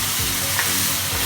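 Ginger garlic paste sizzling as it is sautéed in a pan for a chicken pepper curry, a loud, close, steady hiss lasting about a second with a faint stir.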